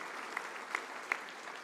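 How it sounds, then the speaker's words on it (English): Faint, steady applause from an audience at an honors evening for Stockton University's Hughes Center, a continuous patter of many hands with a few sharper individual claps standing out. "If we could give them a round of applause"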